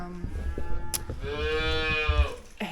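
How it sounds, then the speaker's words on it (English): A calf named Sausage, recently weaned and kept in a nearby paddock on a small farm, lets out a long drawn-out moo, fairly close and loud, with faint farmyard noise before and after. "All that mooing you can hear is Sausage."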